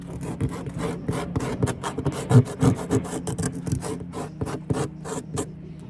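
A hand file rasps back and forth across a workpiece during a DIY bed build, giving a close, rhythmic run of short scraping strokes with brief gaps between them and no talking.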